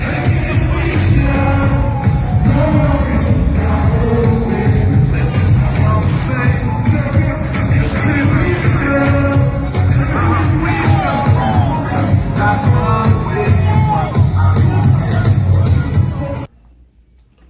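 Dense crowd noise at a London show, loud and continuous with cheers, whoops and shouts layered over thumping music, cutting off abruptly near the end.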